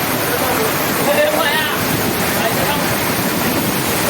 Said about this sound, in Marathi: हे बघा खूप मोठं पाणी वाहत आहे